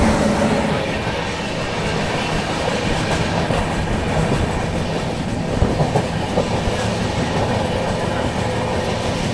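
Dakshin SF Express running from Hyderabad to Delhi, heard from on board as a steady loud rumble of wheels on rails with continuous clickety-clack and rattling carriages, no talking.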